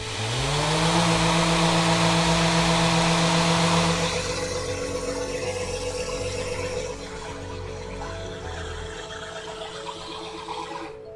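Power sander running on wood with Mirka 80 grit sandpaper, a loud steady motor whine that drops in pitch after about four seconds as it bears down on the surface, continuing without talk.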